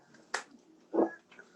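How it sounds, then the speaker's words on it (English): A lone sharp clap rings out in a quiet room at a UFC bantamweight fighter's gathering, followed by a softer duller thump and faint low voices. "One clap."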